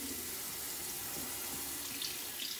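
Warm water runs from a tap into a sink in a steady, close, even hiss that never lets up, with no voices over it.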